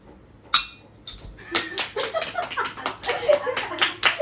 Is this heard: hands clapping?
yes